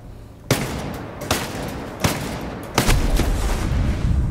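In Ghost Recon Breakpoint, a shotgun fires four sharp, loud blasts at a steady pace, and the last one sets off an explosive barrel with a heavier boom that rumbles on.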